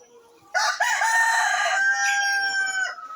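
A rooster crows loudly and close by, a long drawn-out call lasting most of the moment, with chickens clucking around it in a backyard poultry shelter.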